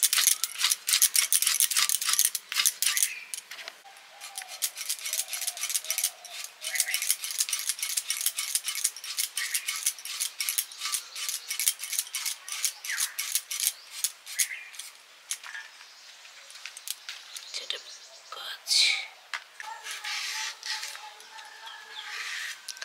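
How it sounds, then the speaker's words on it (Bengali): A knife chops bitter gourd for dal in quick, crisp, repeated taps against a board, a steady rhythm of close clicks continuing throughout while a voice speaks now and then. "আর এই যে উচ্ছে কাটছি, উচ্ছে ডাল হবে।"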